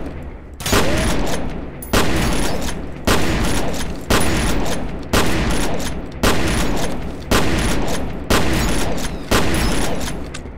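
Shotgun blasts in the shooter game F.E.A.R., eight loud booming shots at a steady pace roughly a second and a quarter apart, each ringing off before the next, with no talking.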